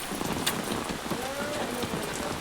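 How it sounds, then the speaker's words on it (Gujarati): Heavy monsoon rain pours in a dense, continuous patter, fairly close and unbroken, with no voices over it. "એટલો વરસાદ પડી ગયો."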